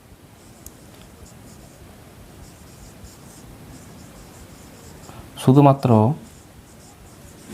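Pen scratches on paper as a maths solution is written out by hand, a soft continuous rustle that is quiet and close. A voice speaks briefly near the end.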